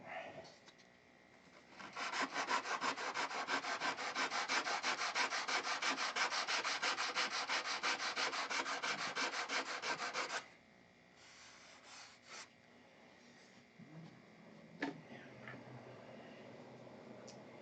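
Steady, rhythmic rasping of a sanding block with 80-grit paper scrubbing back and forth across a wooden model aircraft wing, loud and close for several seconds, then stopping into quieter handling sounds.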